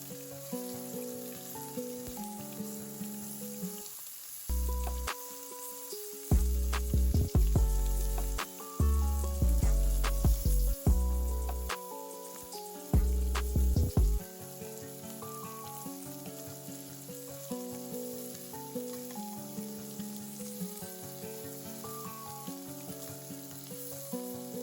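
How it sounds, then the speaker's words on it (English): Steady sizzling and crackling of sausages browning in a frying pan, with loud music playing over it throughout. "I added it to the same frying pan and I'm just getting them browned on each side"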